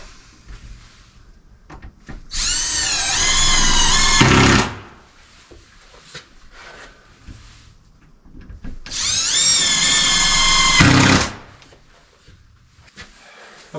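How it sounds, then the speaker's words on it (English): A power drill drives screws into a wooden cleat board in two long, loud whirring bursts of about two seconds each, separated by quiet handling noises. "So I'm just going to zing the rest of these screws in."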